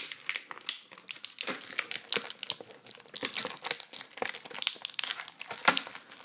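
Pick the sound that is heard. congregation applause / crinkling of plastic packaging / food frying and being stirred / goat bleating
crinkling of plastic packaging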